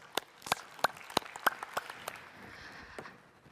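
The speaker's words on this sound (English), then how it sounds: "I really want to give a big applause to these people that agreed to come and be on our panel" Scattered audience clapping at a tech conference panel discussion on AI in HR: a handful of sharp, distinct claps spaced irregularly over a soft background murmur, thinning out toward the end.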